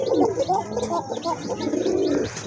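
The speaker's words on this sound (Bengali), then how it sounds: "আপনার দুইটা কবুতরই খুব ভালো ডাকে" A pair of Koka pigeons coo continuously in throaty, rolling phrases, close and fairly loud, with a few faint chirps overhead.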